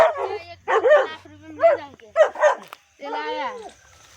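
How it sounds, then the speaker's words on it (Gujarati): A dog barks several times in short, close bursts, with people talking around it. "નવું કૂતરું લાવ્યા તમે"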